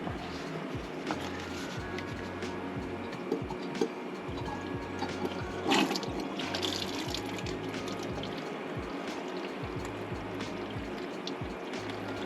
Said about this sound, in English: siphon out all the muck from the second bay, which is my second brushes bay, and get all that muck out of there